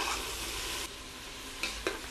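Onions frying in oil inside a 5-litre pressure cooker on a low flame, a close, steady sizzle with a couple of brief stirring scrapes toward the end.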